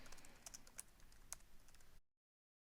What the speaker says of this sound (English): I type it in and click Enter.